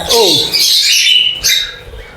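A bird in an aviary gives loud, harsh squawks close by as it is being caught, one burst at the start and another shortly after.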